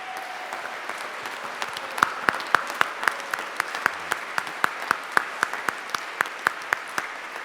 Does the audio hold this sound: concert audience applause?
yes